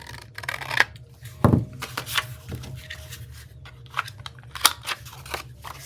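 Scissors trim paper for a craft project, a run of close, crisp snips and rustles at an uneven pace, with soft handling noises between cuts.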